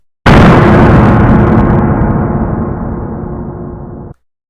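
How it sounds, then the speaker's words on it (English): A video game death-screen sound effect: a loud, booming burst hits at once, then a long rumbling decay fades steadily for about four seconds before cutting off abruptly. "this will actually be for when our death screen pops up."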